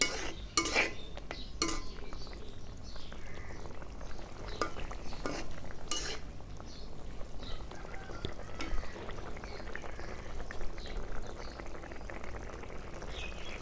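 A pan of simmering egg curry being stirred as eggs go in, with steady bubbling and sizzling throughout and a few sharp utensil scrapes and clinks against the pan, moderately close and without talk.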